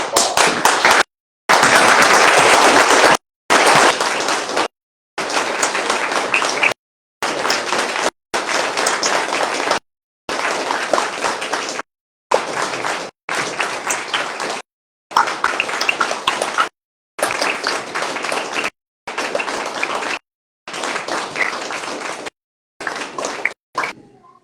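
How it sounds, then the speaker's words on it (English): An audience stands and applauds at a wildland firefighting academy graduation in Eagle River, Alaska, with close, loud clapping broken into repeated bursts separated by sudden silent gaps. "You guys could all stand up and give a round of applause."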